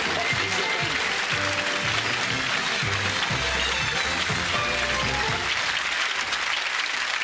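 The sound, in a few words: studio audience applause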